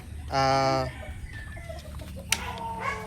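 A Paul Spark Grey gamefowl hen clucks nearby, a short harmonic call followed by quieter scattered clucks and a sharp brief note, in a quiet farmyard.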